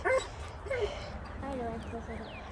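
A puppy outdoors gives a few short whimpering yips and small barks, fairly close, mixed with voices talking in the background.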